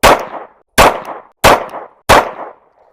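Four pistol shots from a Rost Martin RM1C loaded with Hornady hollow points strike a steel plate rack at a range, each a sharp, loud crack with a ringing clang, evenly spaced about two-thirds of a second apart.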